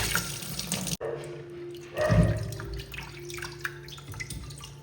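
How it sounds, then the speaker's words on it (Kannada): Water runs steadily from a kitchen tap as turmeric-coated chicken liver is rinsed under it, a close, continuous splashing stream with small shifts as the pieces are moved. "ಚಿಕನ್ ಲಿವರ್ ಅನ್ನು ಒಮ್ಮೆ ನೀರು ಹಾಕಿದನ್ನು ತೊಳಿಬೇಕು, ತೊಳೆದು ತೆಗಿಬೇಕು."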